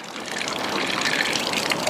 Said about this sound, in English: that's the way you get the water out of a water heater